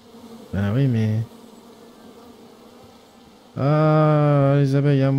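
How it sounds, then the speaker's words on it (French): Angry bees from a felled tree in King's Quest, two bursts of loud, close, harmonic buzzing, a short one early and a longer sustained drone after a quiet gap. "Et alors t'as abattu l'arbre plein d'abeilles en colère?"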